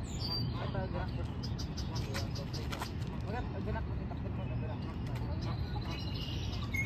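Small birds chirp in scattered quick notes in a park at Niagara Falls on Dufferin Islands, faint beneath steady rushing outdoor background and a few people talking nearby.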